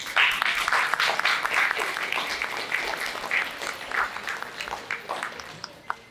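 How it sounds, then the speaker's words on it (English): An audience at an art competition and oratorical contest breaks into loud applause that slowly thins and fades over several seconds, ending in a few scattered claps. "a round of applause."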